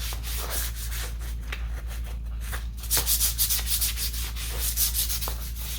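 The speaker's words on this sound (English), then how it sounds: "I'm just gonna do a little sanding on that." Steady rhythmic sanding of a thrifted wooden piece rasps back and forth over a low constant hum, close and moderately loud, with no talking.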